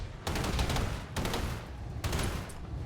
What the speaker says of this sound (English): Yeah, that must be autocannon 2s.